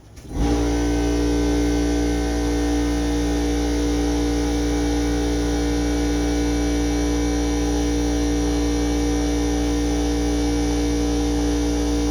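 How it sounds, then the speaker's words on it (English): An air compressor kicks on after a brief silence, then holds a loud, steady motor hum with a whirring drone. It runs on alone without pause and with no talk. "air compressor's done"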